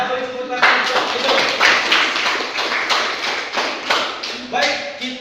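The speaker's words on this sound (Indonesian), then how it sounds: "Kita beri tepuk tangan untuk Edo." A classroom gives applause for a student, a run of loose, sharp claps and taps for about five seconds, with voices chattering underneath.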